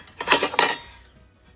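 Small toy pans and utensils clatter against each other in two quick metallic jangles, then a short clink, close and clear with no voices.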